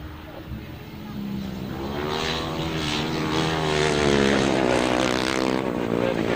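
A rough-running grasstrack racing motorcycle engine in a 600 race, a loud rising drone with a wavering, uneven pitch that builds and holds close by.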